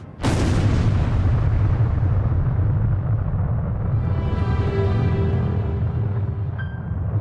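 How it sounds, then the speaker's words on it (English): The first atomic bomb detonates at a New Mexico desert test site: a sudden, deep, very loud blast that swells into a sustained, heavy rumbling roar lasting several seconds with no voices. "At precisely 5:29 and 45 seconds, the first atomic bomb is detonated."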